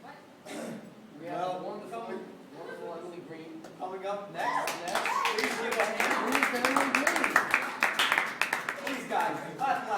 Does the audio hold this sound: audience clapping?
yes